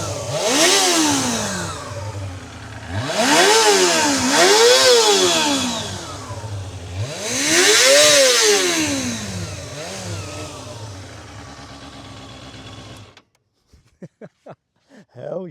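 A carbureted Kawasaki ZXR250R motorcycle engine revs hard and close, climbing to a high scream and falling back in three big sweeps between rough idling, then cuts off into near silence with a few clicks.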